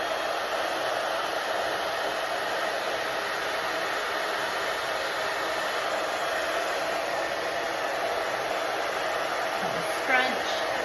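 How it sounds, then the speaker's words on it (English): A blow dryer running on a low fan setting while styling a modern shag haircut, a steady broadband whoosh throughout at even volume, with a brief faint squeak near the end. "Same with like the fan of my blow dryer."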